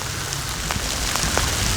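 Steady rain falls in a patch of Adirondack woods, a dense hiss with scattered individual drops standing out, loud and continuous with no voices.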